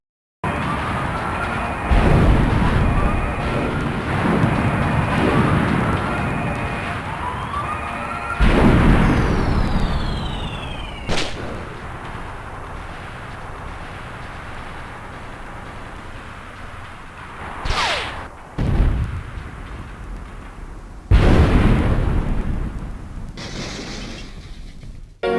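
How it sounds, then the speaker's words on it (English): In the Sonic CD ending scene the enemy base explodes. Loud booming blasts and rumbling debris are laced with mechanical whines and a falling sweep, then the sound thins to a crackling rumble broken by a few sharp crashes before it fades. "there's some audio of the base blowing up, them landing back on Mobius, and the chain being destroyed before the music starts"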